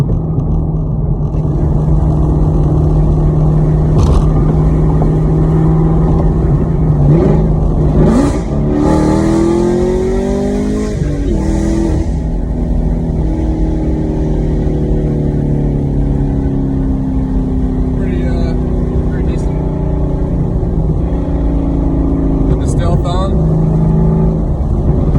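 A 2019 Chevrolet Camaro SS with a Borla Atak exhaust and cam and headers accelerates hard from about 50 mph with the windows down, its loud V8 rising through gears with shifts and some wind noise, heard from inside the cabin.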